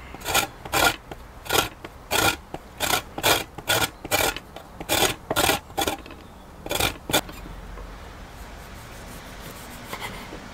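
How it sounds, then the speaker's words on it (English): A lemon is rasped against a grater for zest in a series of quick, rhythmic strokes, close and crisp, about a dozen scrapes before it stops into quiet room tone. "we need to zest and juice"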